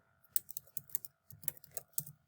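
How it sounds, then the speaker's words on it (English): Keys clatter on a computer keyboard in two quick bursts of soft, close clicks with a brief pause between them, quiet and alone, as a spreadsheet title is entered. "I'm going to type the title here at the top."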